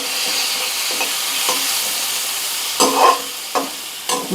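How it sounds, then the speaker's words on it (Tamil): Black chickpea masala with chilli powder and turmeric being stirred in a frying pan, a steady soft sizzle broken by several scraping stirs of the spoon, louder toward the end, with no voices. "எல்லாத்தையும் சேர்த்துட்டு நல்லா மிக்ஸ் பண்ணி விட்டுடலாம்"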